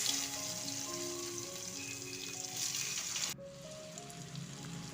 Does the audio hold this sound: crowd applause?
no